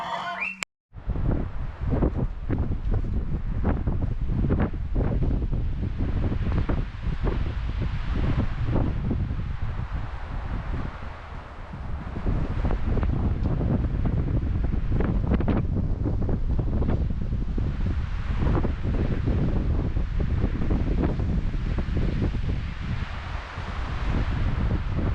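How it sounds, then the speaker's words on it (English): A strong wind gust roars steadily on a farm in spring weather, heavy buffeting across the microphone with rustling through trees, sustained and loud for the whole stretch without any talking. "we had a huge gust and that tree was very tilted"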